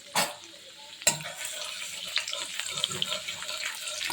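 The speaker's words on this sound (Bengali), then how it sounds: "রিফাইন তেল নিলাম এবারে আমি রসুন কুচি দিয়ে দিলাম" Chopped garlic frying in a little refined oil for green chilli pakoras gives a steady, close sizzle, with a sharp clatter near the start and another at about one second.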